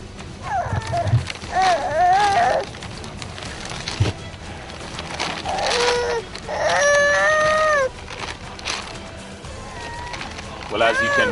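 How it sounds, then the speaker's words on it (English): A baby lying wrapped in polythene in the rain cries in repeated wailing bursts, rising and falling, mixed with background noise and some talking nearby. "that's the cry of a baby right under the polythene"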